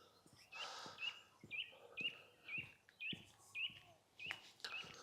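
Birds sing in the countryside on a hillside walk, their short clear chirps and whistled phrases repeating in a steady rhythm a little way off, fairly faint against quiet background.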